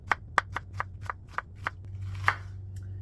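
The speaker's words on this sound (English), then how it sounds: "I'm just chopping some onions here." A knife chops onions on a cutting board in a home kitchen, about ten sharp, evenly spaced taps close by and moderately loud over a low steady hum, with no talking.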